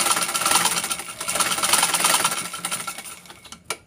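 Sewing machine stitching a trouser pocket closure whirs in a close, fluctuating run for about three seconds before slowing, ending in a sharp click.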